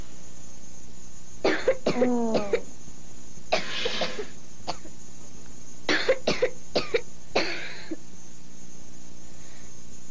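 A child coughs in several short bursts, pausing between groups of two or three harsh, close coughs, with quiet in between, in a 1988 television advertisement for a children's cough syrup.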